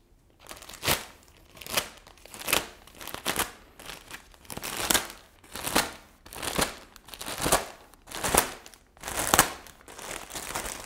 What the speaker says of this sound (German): Also, wir schneiden die Folie auf.